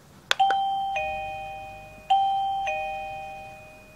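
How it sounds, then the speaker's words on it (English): An electronic chime from a TeckNet wireless doorbell plays a short ding-dong melody twice, bright ringing tones that sustain and decay, heard alone and close. "Initially, doorbell supply uses this melody."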